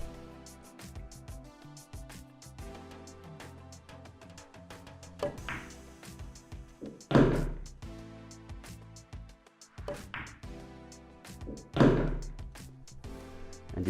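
Pool balls on a table are struck in a few sharp knocks and thuds, one hard crack near the middle and another later, spaced between quieter taps and soft rolling, with no talking.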